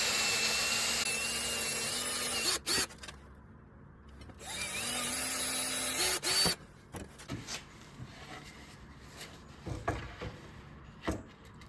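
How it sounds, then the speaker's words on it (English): Two long whining drill runs bore through a wooden board up close, each ending with a clunk, followed by scattered knocks and handling sounds. "So I'm going to drill through hole right on that each of those spots."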